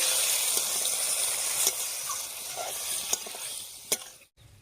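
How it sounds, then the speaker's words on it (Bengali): Cumin and coriander spice paste with water sizzles and fries in a pan for a fish curry with potatoes and cauliflower, a steady bright hiss broken by a few sharp scraping stirs, close and continuous, then a brief cut near the end. "এবারে মশলা বাটা জল দিয়ে খুব ভালো করে কষিয়ে নেব।"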